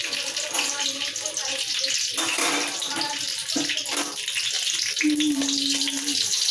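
Slit green chilies hit hot oil in a wok, setting off a loud, continuous hissing sizzle while a voice talks intermittently over it.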